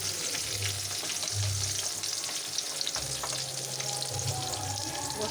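Leafy greens fry in a pan with a spice mix, giving a continuous, close sizzle that holds steady throughout with faint crackles.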